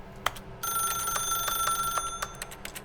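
A telephone rings in The Stanley Parable Ultra Deluxe video game, a bright electronic trill repeating in quick rapid pulses, fairly clear with no talking.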